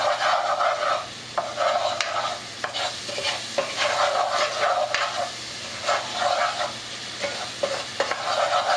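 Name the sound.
stirring a five-spice sauce mixture until it melts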